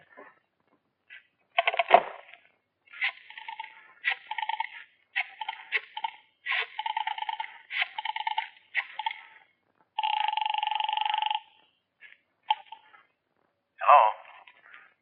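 Telephone dialing and ringing from a radio drama sound effect, a series of short, clipped tones and bursts with one longer sustained ring near the end, set against silence.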